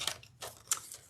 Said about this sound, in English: It still makes all the crunchy, crackly sounds that die machines make